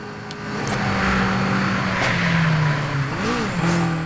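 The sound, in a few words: car engine revving while racing in video game Super Street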